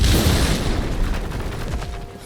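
A bomb blows up in God of War Ragnarok, a loud, heavy explosion that starts at full force and rumbles as it slowly fades, alone with no speech.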